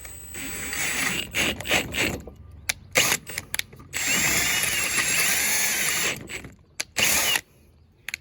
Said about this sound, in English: All right, we're gonna drill straight through.